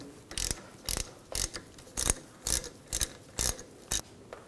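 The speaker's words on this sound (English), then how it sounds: "Now take a 11mm socket, take the banjo bolt out." A socket wrench ratchets out a brake hose banjo bolt on a 2011-2018 Volkswagen Jetta, with about nine quick clicking bursts at a steady rhythm, close and distinct, with no voices.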